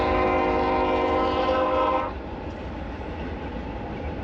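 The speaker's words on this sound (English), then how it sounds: "That is the first train that's gone by in about 4 hours" A train rumbles past with a loud, sustained horn blast for about two seconds, then the steady clatter of rail cars continues.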